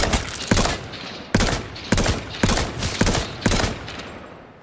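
Bursts of automatic gunfire in the survival shooter H1Z1, about seven sharp, loud shots in an uneven rhythm, each trailing into a short echo, with no talk.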